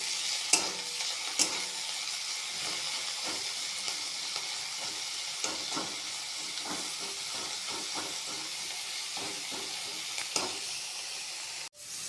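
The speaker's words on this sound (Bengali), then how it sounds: "পেঁয়াজ 1 মিনিট মতো ভাজা হয়ে গেছে" Chopped onions frying in a pan with a little salt, a continuous soft sizzle broken by repeated scraping stirs, close and fairly quiet, with no voices.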